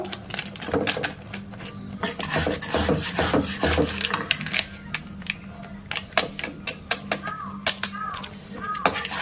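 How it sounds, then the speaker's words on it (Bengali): A spoon or spatula scrapes and clatters repeatedly against a pan while semolina thickens with milk powder for a raw mango sweet, giving close, steady scraping with quick sharp knocks that fill the whole stretch. "দিয়ে ভালো করে নেড়ে দেবো আর আস্তে আস্তে সুজিটা ঘন করে নেব"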